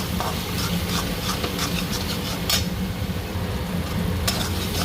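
Chili powder, cumin and coriander powder frying in a pan, a steady close sizzle with scraping stirs and occasional utensil taps throughout.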